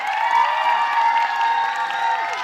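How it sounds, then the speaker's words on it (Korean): A crowd claps steadily throughout at a Korean dubbing premiere stage greeting for Mufasa: The Lion King, a sustained wash of applause with some voices mixed in. "박수가 좀 작은 것 같아요."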